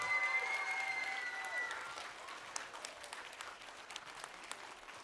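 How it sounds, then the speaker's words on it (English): A crowd of parents and students applauds at a Grade 4 school theatre festival. The soft, scattered clapping rises over a fading sustained tone and continues steadily at a modest distance. "So could we just give a big round of applause to Mr."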